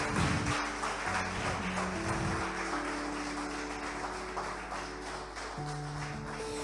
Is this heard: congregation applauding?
yes